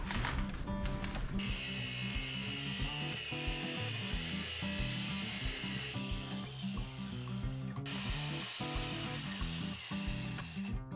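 A power tool cuts through a pipe with a dense, continuous grinding rasp during work on a race super truck, loud and sustained with brief shifts in pitch.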